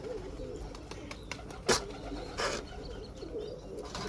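Soft dove-like cooing from a nearby bird over low background hum, with a couple of brief sharp bursts partway through.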